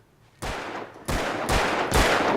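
Gunfire in the Alan Wake video game: four sharp, loud blasts, each with a quick tail, spaced about half a second apart with no voices over them.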